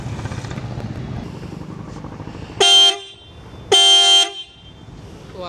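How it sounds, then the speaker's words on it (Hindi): Stock factory-fitted car horn, heard before being swapped for a Bosch horn: two loud, bright honks of about half a second each, separated by a short gap, sounding over low engine rumble. "ये रहा इसका हॉर्न, पुरानी वाली हॉर्न का आवाज़ सुनिए आप।"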